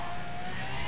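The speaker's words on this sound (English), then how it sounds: "A bit of wheel spin there." A Zonda F launches off the line in Need For Speed World with a brief burst of wheel spin: a loud, steady engine roar that holds constant and close for under a second.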